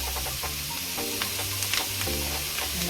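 Seasoned chicken pieces sizzle in a pan with liquid left from cooked sausages, giving a constant crackling fry with light stirring scrapes and a few sharper pops, close and steady.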